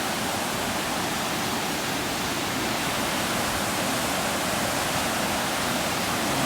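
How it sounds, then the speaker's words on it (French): Strong, steady rushing of river water at Remouchamps, heard from a bridge, fills the whole stretch, a dense, loud wash of noise with no pauses and no voices. "vous entendez l'eau, elle est forte"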